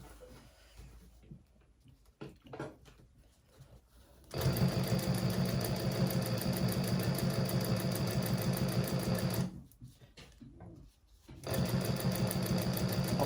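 A sewing machine runs steady, close and loud, stitching a handbag lining about 1/8 inch from the edge, with two sustained runs broken by a short pause and quiet handling before each.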